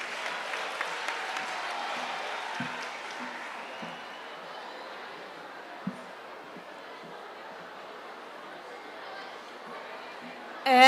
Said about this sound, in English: A round of applause, please, as we welcome her on stage.